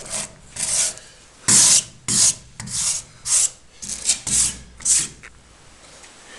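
Brush scrubbing paint off the steel body of a 1976 Simca 1100 during restoration, in about ten short, loud, rasping strokes with brief pauses between them and no talk.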